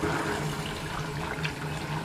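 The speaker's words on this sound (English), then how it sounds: "Wash that oil down with that hot water." Hot water running steadily to wash oil off a surface during spring beehive work, a continuous close rushing flow with no breaks.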